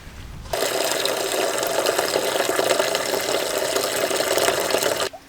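Coolant drains from a Nissan Patrol engine block, a steady splashing gush that starts suddenly, runs evenly for several seconds up close, then cuts off, with no talking over it.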